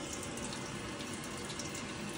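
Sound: hot water tap running

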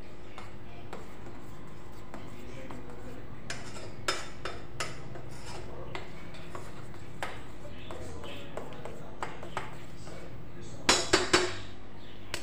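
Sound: stirring coffee in a pan with a spoon

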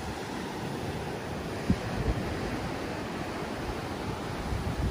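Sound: ocean waves at Treasure Beach, Jamaica

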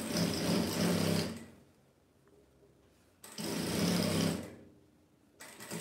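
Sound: sewing machine stitching fabric bias strips

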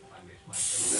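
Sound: cooking spray sprayed into pan

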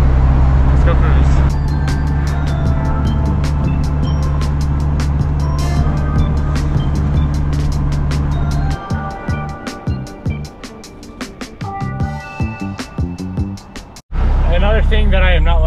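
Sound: Honda Civic Type R driving on the road

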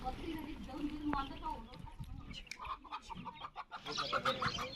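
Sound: chickens clucking

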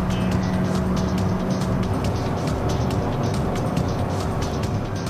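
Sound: hybrid car driving fast on a race track

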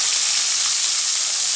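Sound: onions and curry leaves frying in oil

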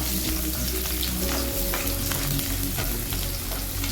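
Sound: garlic frying in oil in an iron kadai

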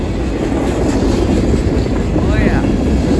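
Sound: CSX freight train passing

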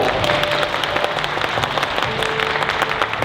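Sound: applause for guests at a ceremony

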